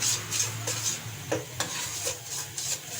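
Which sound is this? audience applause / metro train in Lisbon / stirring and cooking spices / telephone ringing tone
stirring and cooking spices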